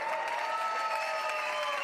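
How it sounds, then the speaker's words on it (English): An audience at a science symposium on brain health applauds steadily, a dense wash of clapping that holds evenly for the whole short stretch with no one speaking over it. "Give the Staglins another big round of applause."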